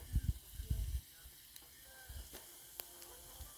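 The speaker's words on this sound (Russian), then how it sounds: "Жарю картошку." Potatoes frying in a pan for a morning meal, with a faint, quiet sizzle after a few clattering knocks at the start.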